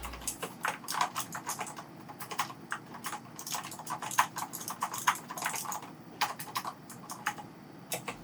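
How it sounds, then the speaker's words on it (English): Rapid, clicky keystrokes on a mechanical keyboard, close and crisp, tapping in quick uneven bursts with no voices. "The kind of clicky goodness that would make any mechanical keyboard purist nod in approval."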